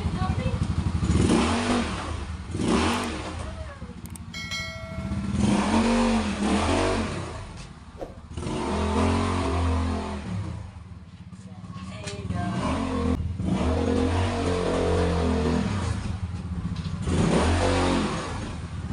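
Car engine running and revving in repeated surges on a test run after a cylinder block replacement, the car still said to smoke on first start; loud and close throughout, with someone talking over it.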